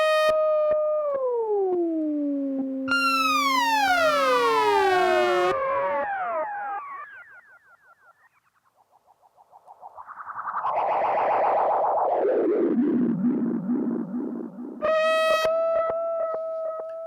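A Gakken SX-150 analog synthesizer tone sweeps up and down in pitch, wobbling and swooping, dipping briefly quiet in the middle before returning with gritty, warbling modulation.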